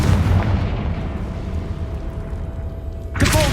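A Confringo fire spell explodes in the video game Hogwarts Legacy: a long, loud, rumbling blast with a low roar that decays over about three seconds, followed by a sharp new burst of impact noise at the end.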